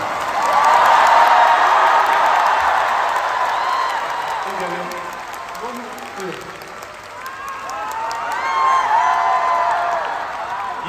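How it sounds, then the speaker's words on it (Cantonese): A large concert crowd in Hong Kong claps loudly in sustained applause, swelling and fading with scattered cheers while a voice speaks over it. "掌聲"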